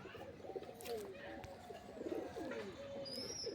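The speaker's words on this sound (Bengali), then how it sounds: "পিওর নাপ্তা কবুতর" Faint cooing of Giribaz and Madras pigeons in a home loft, soft repeated throaty phrases running through the moment over light background noise, with a few small chirps.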